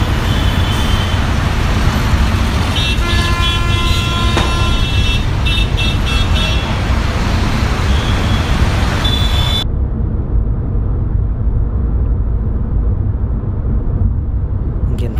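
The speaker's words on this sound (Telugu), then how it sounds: "ట్రాఫిక్లో ఉన్నా." Dense, loud road traffic with car, bus and truck engines rumbling continuously, joined by scattered horn toots in the first half, all steady and close with no voices.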